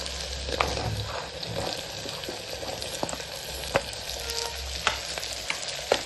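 Potatoes and green chili sizzle steadily in a kadai while a Kathiyawadi cabbage and potato curry cooks, with sharp clicks and scrapes from stirring on top of the constant frying hiss.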